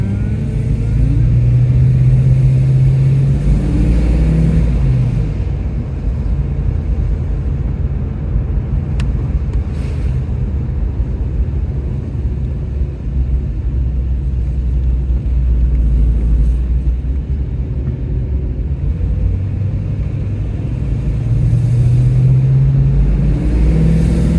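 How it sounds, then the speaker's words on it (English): A Holden VX car engine runs close by with a steady, deep mid-pitched rumble, holding a fairly even drone with slight swells in revs throughout. "So when you're like revving like that, it sounds really good."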